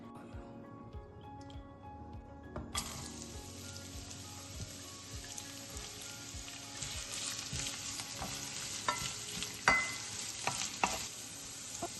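Lentils, dried red chillies and peanuts fry in hot oil for a bottle gourd peel pickle, a steady crackling sizzle that jumps louder after a quiet start and carries on with stirring clinks and scrapes throughout.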